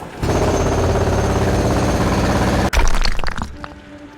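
Jackhammer in the Underrail video game hammering loudly and continuously at close range for a few seconds, then breaking into a rougher crashing burst before fading out.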